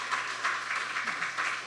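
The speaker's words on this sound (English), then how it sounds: "Give them a round of applause, please." Audience applause fills a town hall meeting held by the Leader of the Opposition, a steady wash of many hands clapping from a moderately distant crowd, sustained evenly without voices over it.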